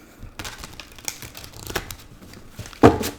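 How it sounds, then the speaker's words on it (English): Tarot cards being shuffled by hand, a few seconds of close, crisp riffling and slapping with a louder snap near the end. "One more shuffle, please."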